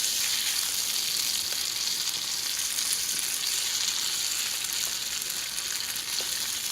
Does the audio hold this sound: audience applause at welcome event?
no